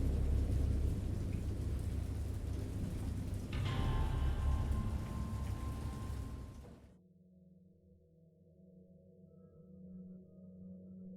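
Heavy, steady rain with rumbling thunder from a storm in a video game, then an abrupt cut to a quieter low droning hum with faint tones.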